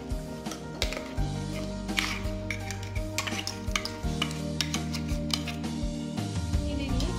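Ground coconut and green chili paste stirred into a pot for star fruit pachadi, with repeated spoon scrapes and knocks against the pot over a soft sizzle, close up and without talk.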